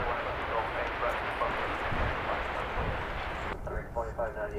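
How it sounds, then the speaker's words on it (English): A Boeing 737 MAX 8 airliner at DFW Airport, arriving on a flight from Santa Ana, gives a steady, loud broadband roar with wind buffeting, then drops off sharply to quieter, tonal engine whine near the end; a voice talks over it. "And that is flight 2626 from Santa Ana, California. This will be a"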